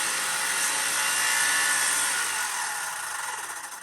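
Power saw ripping lengthwise through a composite decking board during house building, a steady loud whining cut that holds for several seconds and then eases slightly toward the end, with no talk.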